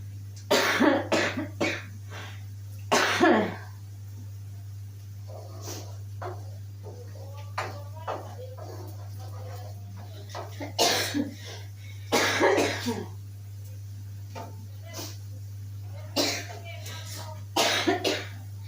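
A string of harsh coughs in repeated bursts, some close together, set off by frying onions, with a steady low hum underneath and brief murmurs between fits.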